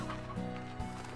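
Clucking from the Elder Hen, an in-game chicken in the video game Slime Rancher, sounds as a couple of short, soft fowl calls over a steady background of game music.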